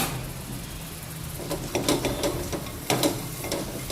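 A spoon scrapes and stirs ingredients, including onion, inside a metal pressure cooker for drumstick soup, a few quick rasping strokes over a faint background hiss.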